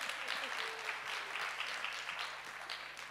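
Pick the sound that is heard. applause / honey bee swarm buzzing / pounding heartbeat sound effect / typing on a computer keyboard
applause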